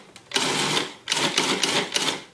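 A food processor pulses butter bean pastry dough in three bursts of loud, gritty whirring, each cut off by a short pause, close by and with no talking.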